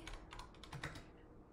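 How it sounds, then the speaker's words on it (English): Quiet clicking of keys as someone types on a computer keyboard, a short quick burst of keystrokes heard close and alone. "Oh, let's type research."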